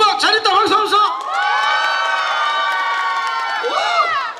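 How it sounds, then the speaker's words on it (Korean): A concert audience at a show cheers and shouts in a loud, sustained burst, swelling into a long held roar before breaking back into scattered excited yells. "박수 함성!"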